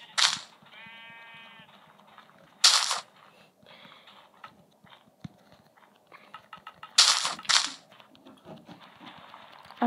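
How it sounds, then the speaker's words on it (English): Sheep bleating in Minecraft Pocket Edition survival, with a few short wavering bleats mixed with sharp game hit sounds and clicks, close and fairly loud with quiet gaps between. "Come on, sheep!"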